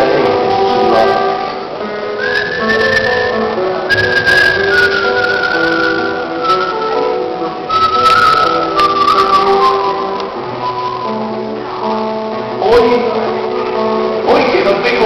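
A person whistles a slow, wavering melody, sustained notes gliding up and down, close and fairly loud with some music underneath, during a criollo recitation at the Precosquín 2013 folk festival.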